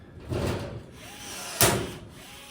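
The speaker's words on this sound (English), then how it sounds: "Get another rivet in my rivet gun." A hand rivet gun sets a rivet while a sign is being mounted: a soft squeeze of the handles, then a single sharp snap as the mandrel breaks, close and fairly quiet.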